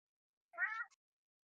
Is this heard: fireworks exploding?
no